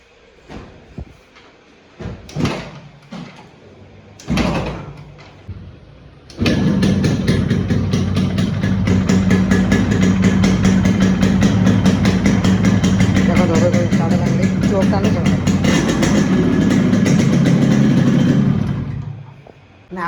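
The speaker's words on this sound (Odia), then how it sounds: "ହେଉନି, ଚୋକ୍ ଟାଣି ଷ୍ଟାର୍ଟ କରିବାକୁ ପଡ଼ିବ।" A Yamaha RX100 motorcycle after engine work, pulled with the choke: a few short clunks and failed kicks, then the two-stroke engine catches and idles loudly and steadily for over ten seconds before cutting off.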